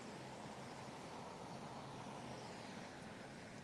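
An Embraer airliner in a special commemorative livery on approach near an In-N-Out restaurant, heard as a steady, broadband roar of jet engines that stays loud and constant throughout, with no talking.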